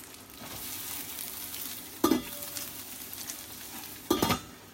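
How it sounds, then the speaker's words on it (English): Onions and garlic fry in a home kitchen pan with a steady soft sizzle, broken twice by louder bursts of stirring and scraping. "I'll put some time to fry the onions with garlic there"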